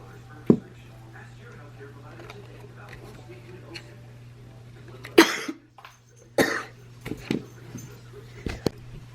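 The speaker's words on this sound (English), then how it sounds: "My allergies are going crazy and I had a coughing fit." Several harsh coughs from a person suffering an allergy attack, one isolated cough early, then a louder burst of coughs and throat clearing later, close to the microphone over a quiet room with a faint steady hum.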